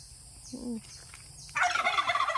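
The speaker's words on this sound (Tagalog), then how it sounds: "Ang matapang na pabo, oh. Susugod na yan sa akin." A turkey on a Philippine province farm lets out a short gobble, then a louder, rattling burst of gobbling follows, close by against quiet background noise.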